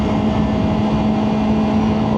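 A motorcycle fitted with a tuned muffler revs steadily at high RPM near a bridge, a loud, sustained engine drone close by with no pauses.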